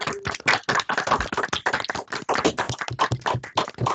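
Scattered applause from participants in an online session after a speaker's talk, a dense run of hand claps and taps, close and uneven, with overlapping bursts that sound like several unmuted microphones.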